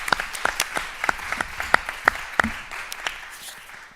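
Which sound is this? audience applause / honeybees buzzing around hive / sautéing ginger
audience applause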